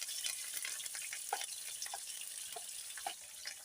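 Onion pieces and curry leaves fry in hot oil for a cabbage-tomato curry, giving a steady close sizzle with small crackling pops throughout and no talking.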